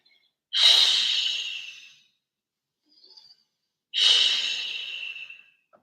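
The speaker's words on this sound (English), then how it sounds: "Big exhale to fold into self" Two long, audible exhales, breathy and close, during a yoga forward fold, each about a second and a half and fading out, separated by a short quiet gap with a faint small sound between them.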